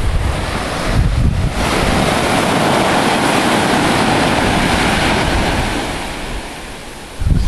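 Steady roar of ocean surf breaking on Darkwood Beach, Antigua, with wind buffeting the microphone; the wash stays loud and continuous, easing briefly near the end.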